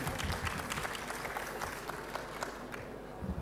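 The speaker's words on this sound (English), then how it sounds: "Small round of applause for Julie's daughter." A small round of audience applause in a conference hall, a modest crowd clapping steadily at moderate volume before it starts to thin out toward the end.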